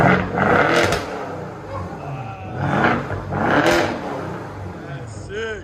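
A straight-piped luxury V8 car engine revs in loud, roaring bursts that swell and fall, with a sharp pop near the end, while people talk over it.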